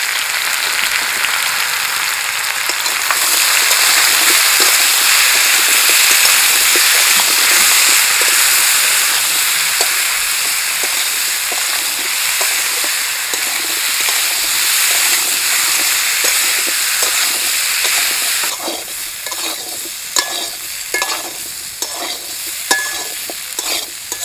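Potatoes and plantains fry in a pan with a loud, steady sizzle, and stirring scrapes and clatters grow more distinct toward the end, with no voices.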